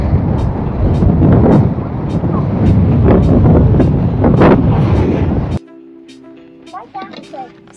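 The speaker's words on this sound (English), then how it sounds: "Oh, so windy." Strong wind buffets the microphone at Camber Sands beach on a rainy day, a loud continuous roar with gusts for about five seconds before dropping away, leaving a quieter background with faint sounds.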